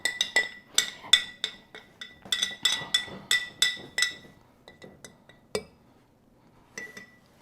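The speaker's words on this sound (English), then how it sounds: "Just get it stirred up really well." A utensil stirring flour and water in a glass container for a sourdough starter, making quick bright clinks and taps against the glass, loud at first, then thinning to sparse, fainter knocks.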